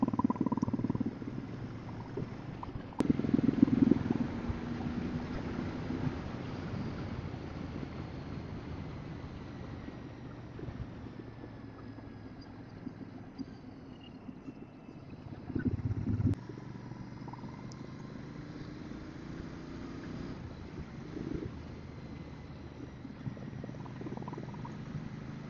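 A Royal Enfield Interceptor Bear 650 motorcycle rides with a low, steady engine rumble under rushing wind, swelling briefly a couple of times.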